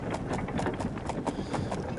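Horse hooves clip-clopping in the video game Fated, a steady quick run of soft thuds repeating at moderate volume with a faint rumble underneath.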